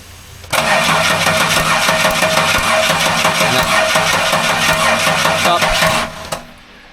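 A rebuilt budget V6 engine with an L67 top swap cranks, catches and runs loudly for about six seconds with a rough, rapid rhythmic chatter, then shuts off abruptly, close up.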